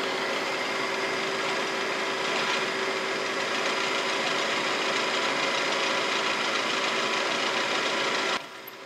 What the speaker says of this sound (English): we're going to drill a pilot hole to start with